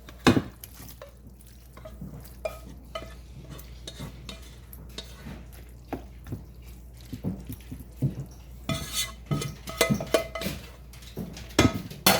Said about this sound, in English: now I'm just going to put this into my pan.